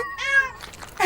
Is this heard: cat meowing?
yes